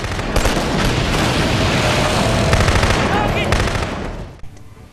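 Rapid automatic gunfire from the PS3 shooter Killzone 2, a dense, loud, continuous barrage of shots lasting about four seconds before trailing off, with a voice faintly mixed in.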